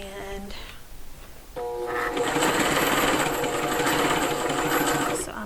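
A sewing machine stitches through thick seams of dimensional fabric pieces. It starts with a short, quieter run, pauses, then settles into a louder, steady, rapid whirring hum that continues until it stops near the end.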